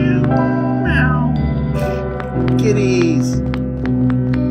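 A cartoon cat meows in the video game OneShot, a couple of short meows over looping game music.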